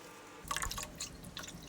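Rice-washing water poured into cooled pickling liquid of salt and palm sugar, heard as a short burst of wet splashing and dripping, close and soft, with no talk.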